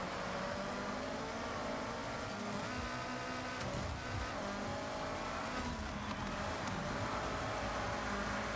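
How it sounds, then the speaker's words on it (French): A car slides around in the racing game Forza Horizon 6 during a rally event, its engine drone and tyre scrub blending into a dense, continuous roar with no voices over it. "Elle glisse trop la voiture."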